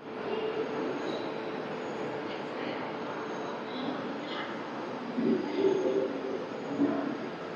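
The Tirupati AC Double Decker Express, train 22707, pulls out of Visakhapatnam railway station, giving a steady rolling rumble from inside the coach with brief metallic squeals of wheels toward the end.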